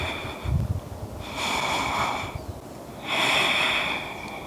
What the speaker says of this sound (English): You're going to do 3 breaths